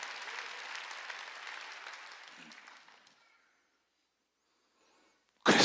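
A church congregation applauds during a Sunday worship service, steady clapping that fades out after about three seconds into near silence, followed by a sudden loud burst at the very end.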